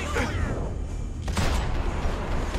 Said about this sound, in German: Schüsse.